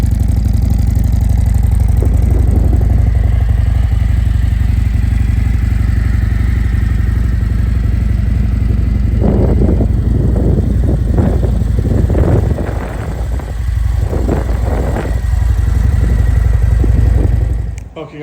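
A 2024 Harley Street Glide with a Klock Werks 10-inch windshield rumbles steadily and loudly nearby, with clattering thumps and bursts of mid-range engine noise toward the end before it cuts off.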